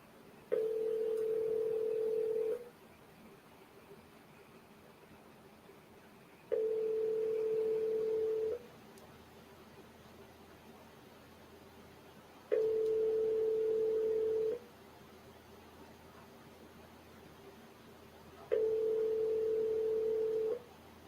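An outgoing telephone ringing tone repeats four times during a cold call, each steady ring lasting about two seconds and separated by roughly four seconds of quiet line hiss.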